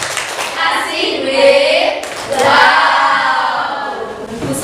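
A classroom of children clap the "tepuk wow" clap chant together, a short burst of hand claps mixed with young voices calling out, followed by more chatter and clapping.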